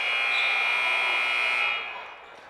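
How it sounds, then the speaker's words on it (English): A basketball halftime buzzer blares during a sectional game, one long, steady, loud tone for about two seconds before it cuts off and gym noise remains. "that's the halftime buzzer going off there"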